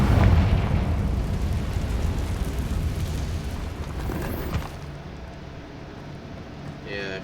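Explosion spells cast in the Hogwarts Legacy video game inside an abandoned cave, a deep rumbling boom that swells and slowly decays over several seconds with debris crackle, while a voice speaks over it.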